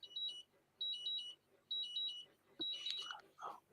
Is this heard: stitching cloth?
no